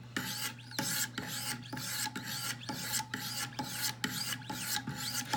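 A Wicked Edge sharpening stone is drawn repeatedly along a Hinderer knife blade, giving a steady rhythm of close, rasping strokes about twice per second over a low constant hum.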